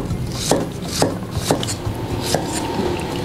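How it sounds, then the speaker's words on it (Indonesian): Knife chopping pineapple on a cutting board, a series of about six sharp, evenly spaced cuts close up, with no talking. "Kita potong-potong nanasnya ini supaya tidak keras."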